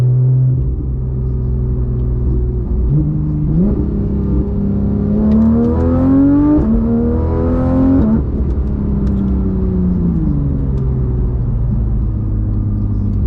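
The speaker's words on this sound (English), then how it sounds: "just having the motor right there is just an insane sound" Porsche GT3 RS rear-mounted engine revving loudly and close by, pitch climbing steadily through a long rev before dropping back to a deep, rumbling idle; no talking.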